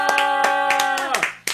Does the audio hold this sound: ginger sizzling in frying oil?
no